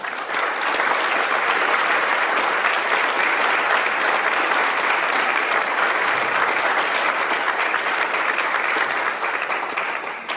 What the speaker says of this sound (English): So if you could give those folks a round of applause.